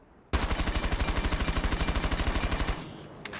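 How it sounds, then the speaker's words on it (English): Rapid automatic gunfire from a rifle fitted with a muzzle brake in Rainbow Six Siege, about thirty evenly spaced loud shots in a steady burst lasting over two seconds, then it stops abruptly. "I'm gonna shoot it one more time and see"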